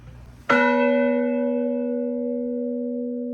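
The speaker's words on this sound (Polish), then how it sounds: "Posłuchajcie, jakie jest brzmienie tegoż dzwonu." A single deep church bell strikes loudly and close, its tone ringing on in a long, slowly fading hum.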